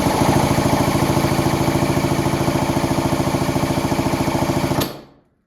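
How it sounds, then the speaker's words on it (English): A power drill spins the engine of a Yamaha YZ80 dirt bike, making a steady, loud rapid chugging whir that runs for about five seconds before cutting off abruptly. "I'll see if it starts up with a drill."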